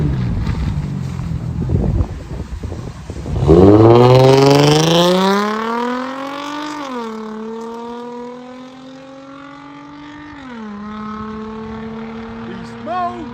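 A 2006 Infiniti G35 with straight-pipe exhaust revs up hard, its loud raspy note climbing and holding high before easing back and rising again, with wind noise buffeting the microphone throughout.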